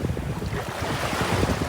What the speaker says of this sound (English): But the wind is crazy.